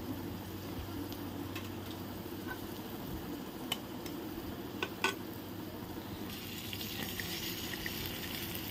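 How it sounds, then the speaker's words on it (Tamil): Beaten eggs with turmeric and salt sizzling steadily in a hot pan for egg podimas, a faint continuous fry with a few small ticks and clinks. "அப்புறம் முட்டை உடச்சி ஊற்றிக்கலாம்."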